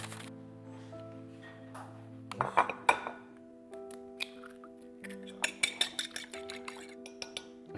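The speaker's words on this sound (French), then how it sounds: "On verse tout dans une assiette." Homemade breading mix seasoned with curry is tipped into a plate with soft clinks and taps of a dish and utensil, scattered light knocks over a faint background hum.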